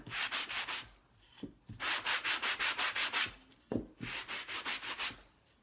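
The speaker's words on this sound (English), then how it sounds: "I love my little sander block" A small sanding block rubs over painted wood in three bursts of quick, rhythmic back-and-forth strokes, close and fairly quiet, with short pauses between them.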